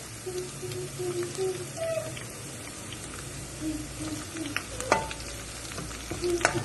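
Green chilies sizzle in hot oil in a pan while being stirred for halwai-style aloo gobi, a steady close frying hiss with occasional scraping and clinks of the spoon.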